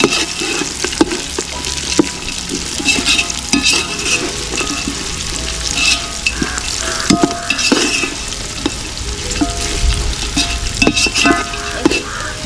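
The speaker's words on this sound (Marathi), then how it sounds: "आणि लसूण आणि अद्रक. हे छान परतून घेऊया आता." Garlic and ginger sautéing for a village-style chicken curry cooked over a wood-fired stove, a loud, constant sizzle with busy stirring and scraping throughout, close up and with no speech.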